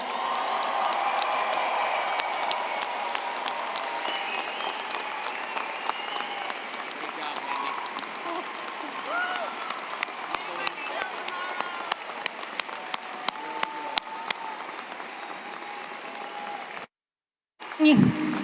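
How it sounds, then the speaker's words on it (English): Sustained applause with some cheering and whoops from a large crowd at a college commencement ceremony, steady and dense for most of the clip before a brief cut near the end. "one big round of applause."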